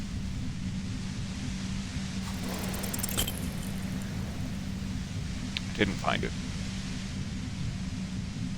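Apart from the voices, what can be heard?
violent white noise near a compressor in video game Disco Elysium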